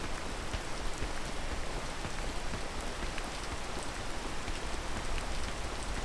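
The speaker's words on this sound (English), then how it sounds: "Oh, it's raining." Rain falls in the PEAK video game as a steady, even patter of drops on surfaces, continuous and moderately loud throughout with no voices.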